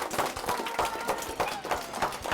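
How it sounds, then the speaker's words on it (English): Audience applause at a magic show, a brief burst of uneven clapping mixed with crowd noise and a voice. "Give yourselves a big round of applause."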